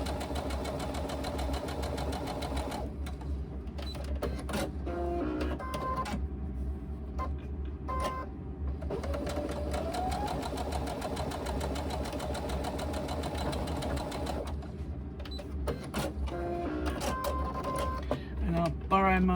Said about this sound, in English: I'm just going to quickly edge stitch this to hold it in place